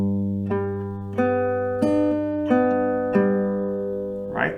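Acoustic guitar fingerpicking a repeating pattern, with clear plucked notes arriving about every 0.6 seconds over sustained ringing strings, close and clean, with a brief breathy noise at the end.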